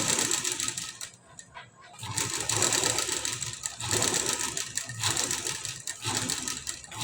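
A sewing machine stitches a blouse back design in rapid, close bursts of mechanical chatter, broken by short pauses between runs.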